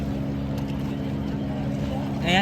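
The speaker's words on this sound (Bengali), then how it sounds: "তাই আমরা আবার তেইশ নম্বর সেক্টরে ফিরে যাচ্ছি নৌকা করে" A boat crossing a river at the Mahakumbh gathering, its motor giving a steady, close drone throughout that swells briefly louder near the end.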